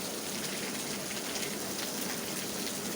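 Steady rain falls in a neighbourhood as a dense, even hiss of drops that stays close and constant throughout, with no talk.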